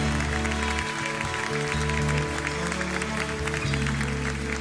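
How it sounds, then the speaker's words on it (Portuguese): Congregation at a Portuguese-language church service applauding in praise: a continuous wash of many hands clapping at a fairly low level over sustained organ-like keyboard tones. "Você pode aplaudir a esse Deus maravilhoso."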